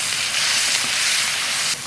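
Pork belly stir-frying with scallion, ginger, garlic and dried chilies in a pan gives a steady, loud hiss of sizzling oil, close and continuous, with no talking.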